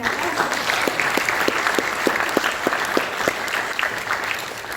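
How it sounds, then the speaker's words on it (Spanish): Audience applause at a Chilean union and academic gathering, a continuous even burst of many hands clapping at moderate distance, with faint background voices. "Un aplauso."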